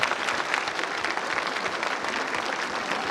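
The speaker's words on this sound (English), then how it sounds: "we must give a huge round of applause to all of them" An audience at a girls' school annual day gives the students a round of applause, a dense and even wash of clapping heard throughout.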